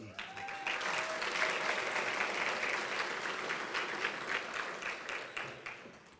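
Round of applause for award recipients at a school district academic excellence banquet, steady clapping from a seated crowd that swells and then fades slightly.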